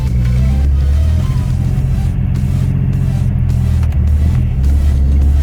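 A car fitted with a home-built electronic power steering conversion pulls away and drives on, a loud, steady low engine rumble and road noise close up inside the cabin.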